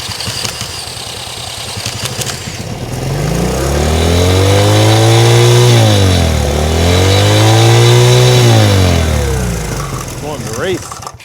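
A 1970 Honda CL100 motorcycle with a once-seized engine starts and runs, its small single-cylinder engine rising in two throaty revs before settling back, loud and close throughout.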